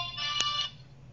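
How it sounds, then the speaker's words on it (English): A mobile phone ringtone plays a short, bright electronic chirp that lasts about half a second in a quiet room, then falls silent. "That's my phone."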